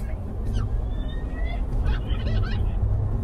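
A bird calls a few times in short, thin notes on a hilltop in Marilog District, Davao City, over a steady low rumble of background noise, with some faint voices mixed in.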